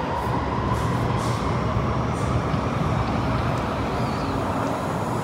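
A Sydney Metro train at Central Station's underground platform gives a steady, loud rumbling roar that continues unbroken throughout, close by, with no voices.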